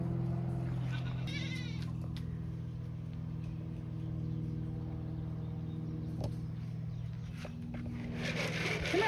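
A goat bleats in short, quavering calls near the start and again at the end over a constant low engine hum, outdoors near a fence with no talking.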